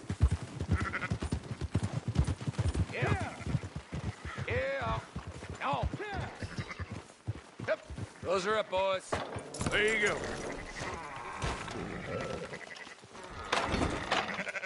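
Several sheep in the video game Red Dead Redemption 2 bleat repeatedly, wavering calls overlapping near and far, while someone speaks briefly between them.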